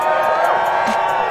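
A crowd at a ski streetstyle competition cheers and whoops for a podium finisher. The noise comes as a dense, steady roar of voices, with an announcer talking over it.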